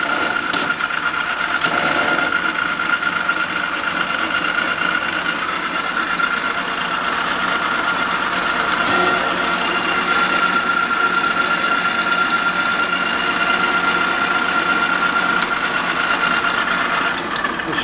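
ENCO 13x40 metal lathe motor running steadily, a continuous mechanical hum with a whining tone, close and even throughout with no voices.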